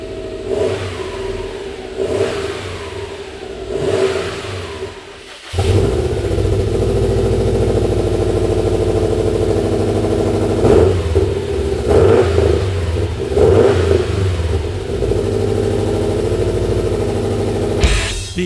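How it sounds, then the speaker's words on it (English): A car engine with a newly fitted exhaust idles, then revs through the exhaust in several strong bursts, settling into a loud, steady rumble with repeated throttle blips. "exhaust is on and sounds way better, and a really good volume for a daily drive."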